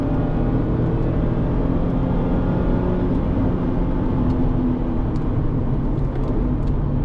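A Mazda MX-5 ND2 Miata drives on a race track, its engine a steady, loud in-cabin drone with road and wind roar and a few faint clicks, no talk heard.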